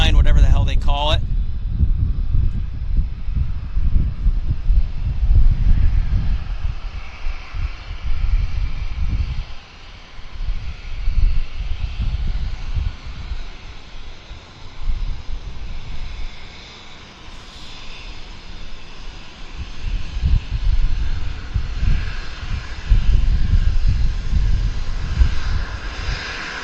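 A Canadian Forces military transport jet passes at Vancouver Airport, its engines a loud, sustained roar that swells and fades in waves, with someone talking over the noise throughout.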